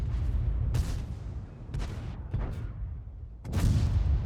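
Tank cannon fire in World of Tanks: three sharp, heavy gunshots roughly a second apart amid a constant low engine rumble, with the last blast the loudest and trailing into a booming tail.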